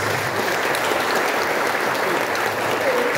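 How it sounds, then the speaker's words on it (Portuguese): A church congregation at a men's rosary anniversary celebration breaks into steady, dense applause that fills the whole stretch evenly, loud and sustained with no pause, as a crowd of many hands claps together. "Saudemos o Deus dos homens com uma salva de palmas"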